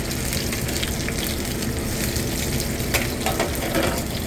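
Potato pieces searing in hot oil in a pan, a steady close sizzle and crackle with a few brighter pops and spatters toward the end, no talking.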